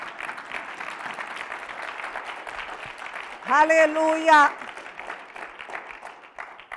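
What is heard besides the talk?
congregation applause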